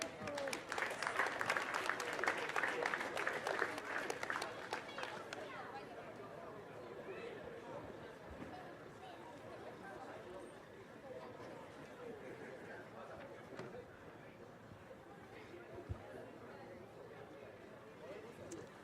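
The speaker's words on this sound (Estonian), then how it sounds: "Aplaus." Crowd applause at a 2016 Estonian championship rally stage win for Erik-Markus Jaanimets, loud clapping and cheering over the first five seconds, then fading into a lower murmur of chatter and background noise.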